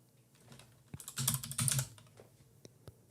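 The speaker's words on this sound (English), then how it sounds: "See, I don't even know what he's typing in." Quiet typing on a computer keyboard during game development work, a brief flurry of clustered keystrokes peaking in the middle, faint and close with no talk over it.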